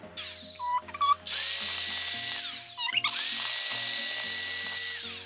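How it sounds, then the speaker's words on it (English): A tufting gun drives yarn into stretched rug cloth in a high, buzzing mechanical whir. It runs in two long bursts separated by a short pause with a few clicks, loud and close, as the gun sweeps side to side. "as I'm tufting, I'm gonna, kind of go like from side to side"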